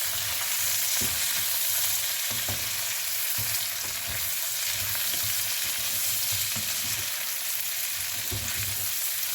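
Red potatoes, onions and mild sausage sizzle steadily in a frying pan, with soft periodic scrapes and knocks as a utensil stirs them. No voice is heard.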